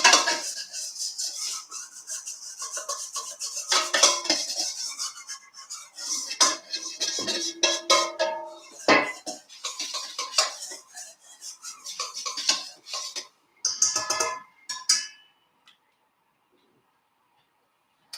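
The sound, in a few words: whisking garlic sauce for tofu and broccoli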